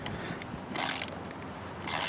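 Worm clamp being ratcheted tight on a pulley puller, two short bursts of bright metallic clicking close up, separated by quieter handling noise, no talk.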